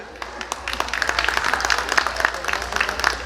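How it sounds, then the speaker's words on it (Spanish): Wedding guests applaud, scattered clapping that builds after a quiet start into a moderate, uneven round over a low background hum, with a faint tone running through it. "Fuerte los aplausos, por favor"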